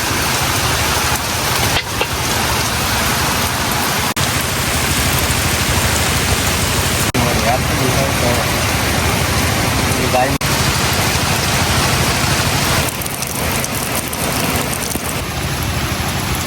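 Steady rain pours down outdoors in a village, a dense continuous hiss of drops on surfaces that fills the whole stretch at an even, fairly loud level, with a few brief dips.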